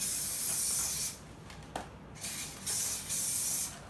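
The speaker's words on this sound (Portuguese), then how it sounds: "Eu vou usar esse spray que é pra untar" Cooking spray hisses onto disposable baking tins in several close, loud bursts with short pauses between them.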